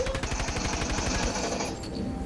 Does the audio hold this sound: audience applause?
no